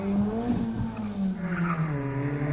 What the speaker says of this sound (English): Oh, look at the noise of the car.